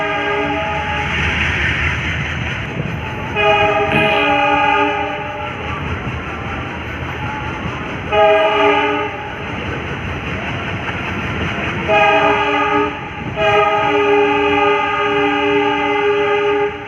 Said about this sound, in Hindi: आपको लोकोमोटिव की भी आवाज़ आ रही होगी। तो ये हमारी ट्रेन ने डिपार्चर ले लिया है